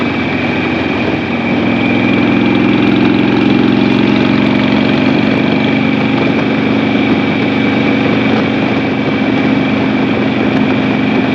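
A 2006 Harley-Davidson Sportster motorcycle engine while riding on a curvy ridge road, a loud, steady, close drone with a constant low rumble and no pauses throughout.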